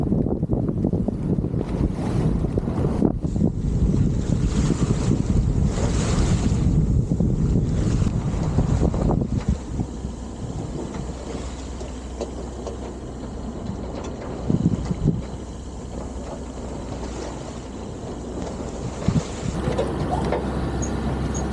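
Sailboat motoring in lumpy seas off the Lizard on the south coast, sails flapping: heavy wind buffeting and the rush of waves against the hull over a low engine drone, with occasional thumps and splashes.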